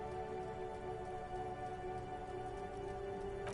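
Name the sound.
rain dripping off roofs in Disco Elysium video game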